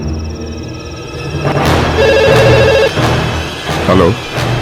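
Telephone ringing in a Hindi-dubbed horror film, a late-night call whose electronic trilling bursts repeat several times among background music and effects, with some voice activity nearby.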